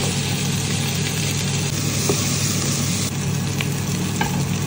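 Meatballs frying in hot oil with garlic, onion and ginger for a vegetable soup, giving a steady, loud broadband sizzle throughout with faint stirring clinks and no talk.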